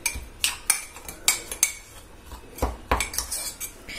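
A spoon clinks against a mug again and again, stirring a thick coffee paste made with a little milk, in quick irregular taps and scrapes with short pauses between.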